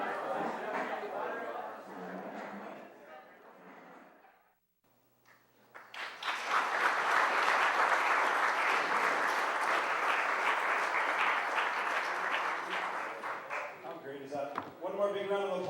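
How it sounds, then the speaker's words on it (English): Crowd at a school awards event gives a big round of applause, loud and sustained for about ten seconds, following a few seconds of someone speaking, with a short quiet gap in between. "One more big round of applause."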